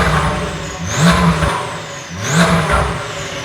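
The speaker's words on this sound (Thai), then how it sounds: "สังเกตว่าก็จะมีเสียงแบบป๊อปแบงด้วยนะตอนนี้เวลาที่ผ่อนคันเร่ง" A Porsche 992 Carrera with a Stage 2 tune and a full titanium exhaust revs twice in loud, rising sweeps, each throttle lift dropping into crackling pop-bang bursts, close by with no talking.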